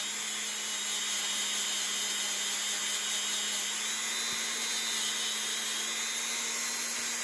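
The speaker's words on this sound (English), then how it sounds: "So I just take the Dremel tool. I'm just going to go over where the seam is." Dremel rotary tool working over the seam of a jewelry piece, giving a constant high-pitched whirring buzz that holds steady at moderate level for several seconds, with no talk.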